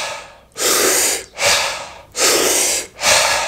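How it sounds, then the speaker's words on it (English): Four loud, close deep breaths, each a long rushing inhale or exhale separated by short pauses, in a steady, even rhythm with no talking. "Take 40 or 50 deep breaths,"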